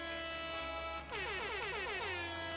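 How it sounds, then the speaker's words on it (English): A blaring air horn sound effect in a game livestream, its sustained tone bending and warbling in pitch partway through, loud and continuous with no talk over it. "Also, the air horn sounds, I can make them play whenever I want by pressing B."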